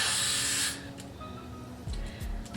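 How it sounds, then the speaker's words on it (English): A short, loud hiss of hairspray blasts from a can for under a second, followed by quiet handling sounds. "Spray right across my hairline"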